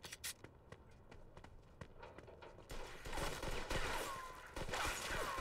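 Gunfire in the video game Mafia 2 Definitive Edition, sharp isolated shots at first, then a dense sustained burst of rapid fire with clattering over it, no talk.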